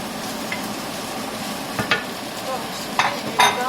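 Steak strips frying in a hot pan for Philly subs give a steady close sizzle, with a few sharper crackles and light utensil clicks toward the end and no talking.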